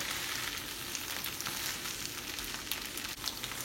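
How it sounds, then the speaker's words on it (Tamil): Chilli chicken sizzles on a hot sizzler plate with a steady, soft crackling hiss, constant and close, with no voices over it. "சிஸ்லிங் சத்தம் வந்து கொண்டிருக்குது."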